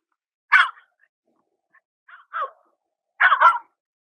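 A corgi named Dale barking in short, sharp yips, three quick bursts spaced by pauses, close and distinct against near silence.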